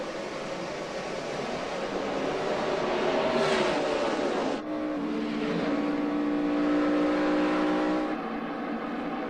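NASCAR stock cars at the 2011 Samsung Mobile 500 accelerate at a race restart, a loud continuous engine roar with rising pitch and sweeping passes, no talk.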